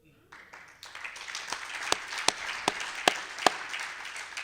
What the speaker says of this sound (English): You clapped too soon.